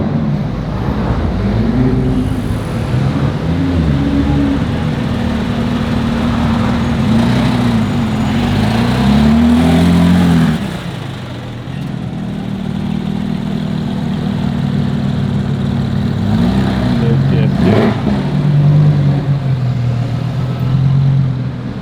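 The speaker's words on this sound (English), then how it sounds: "Nice GT3 997. Seems to be pretty loud." Loud, close engine of a Porsche 911 GT3 997, a rough steady rumble with rising revs and slight dips, continuous and dominant with no talking.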